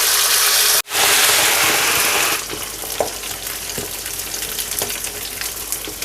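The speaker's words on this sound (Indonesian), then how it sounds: "Kita akan mulai goreng." Marinated beef lung frying in hot oil, a loud dense sizzle with a brief dropout, then a quieter steady bubbling crackle with occasional stirring clinks.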